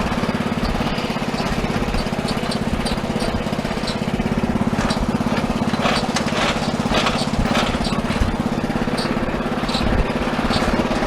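A lawn mower engine drones loudly and steadily at close range, with a constant low hum and rattling vibration throughout.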